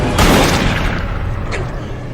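Gunfire from a film scene in The Happening, where two young boys are shot off their porch, a loud close boom at the start that trails into echoing rumble with a faint second crack after.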